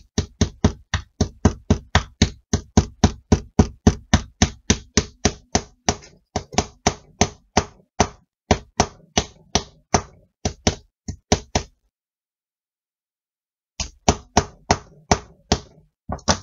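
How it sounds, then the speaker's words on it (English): Rapid, evenly spaced hammer taps fixing a part into a mouse trap Christmas ornament, dozens of sharp close knocks in a steady rhythm, a pause, then a few more taps. "you're going to go ahead and hammer that in."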